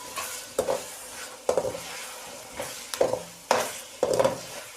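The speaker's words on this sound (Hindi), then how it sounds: "अब मैं इसके अंदर आलू शामिल करूँगी।" Large-cut chopped potatoes frying in a pot, a soft steady sizzle broken by repeated scraping stirs every second or so, close and alone without any talk.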